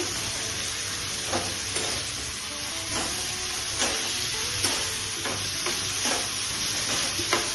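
Potatoes frying in tomato paste in a curry pan for an eyl fish curry, a steady close sizzle with repeated scraping stir strokes at an even rhythm, no voices.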